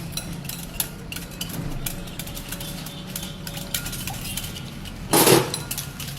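A spoon mixing salt into food, light scattered clinks and scrapes of metal against a dish, with a louder rattling burst near the end.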